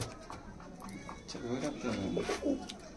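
Andhra (Madras) breed pigeons coo softly in a low, throaty burble beneath steady background noise, with a few overlapping calls close by.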